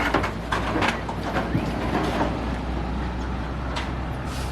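A truck carrying sheep passes on a town street in Wilcannia, a steady low engine rumble with clattering, rattling bursts of the load and faint bleat-like cries, fairly close and moderately loud.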